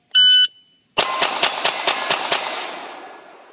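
Colt Mustang .380 pistol fires seven rapid timed rounds in a quick, evenly spaced burst, loud and close, following a shot-timer beep, with the last report ringing out and fading.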